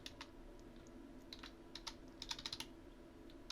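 Quiet computer keyboard typing as form details are entered, with scattered keystrokes at first building to a quicker burst of clicks, faint and close against low background hum.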